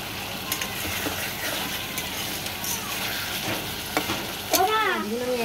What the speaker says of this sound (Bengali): এবার একে একে আমি মাছগুলো এর মধ্যে দিয়ে দেবো, যাতে মশলাটা এর মধ্যে ঢুকে যায়।